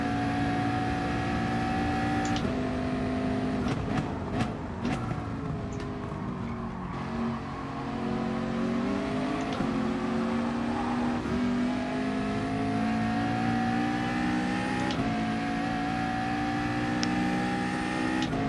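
In the Gran Turismo Sport racing game, a car's engine revs steadily with tires spinning, a continuous droning whine that rises and falls with gear changes, at moderate level throughout and with no talking.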